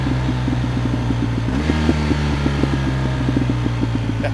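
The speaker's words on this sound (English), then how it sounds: "hopefully you can hear the sound of that R1250 exhaust" A deep, steady motorcycle engine and exhaust rumble from a BMW R1250GS, with rhythmic low-end pulsing, loud and close, running continuously with no voices.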